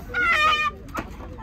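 At a poultry market, a chicken gives a loud, close, drawn-out cluck or squawk, then a quieter short call follows after a brief pause.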